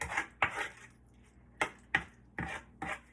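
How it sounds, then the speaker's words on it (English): A spoon clinks and scrapes against a pan while tossing canned green beans into a sugary syrup mixture, five or six distinct close metallic strokes at an uneven pace over a faint low hum. "I'm just going to gently toss those green beans into that syrupy mixture that I just made."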